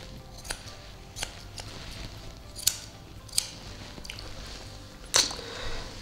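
Grooming scissors snip at a Shih Tzu's fringe, giving several crisp, isolated metallic clicks spaced a second or so apart over a quiet, faintly hissing room background.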